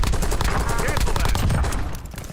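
Rapid gunfire in the Warzone video game, a close, loud burst of overlapping shots with little letup, over a busy game soundscape.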